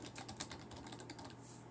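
A password being typed on a computer keyboard, a quick run of soft, close key clicks in an irregular rhythm, faint and without talk.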